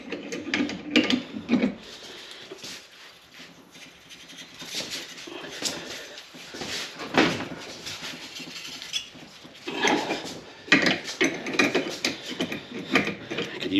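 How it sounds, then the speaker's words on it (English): Twisting a steel pigtail steak flipper with long crescent wrenches, metal creaking, scraping and clanking irregularly at close range, with a voice in between. "Use some longer crescent wrenches."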